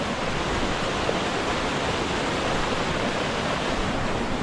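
A small village waterfall gives a steady, even rush of falling water, continuous and fairly close with no other sounds.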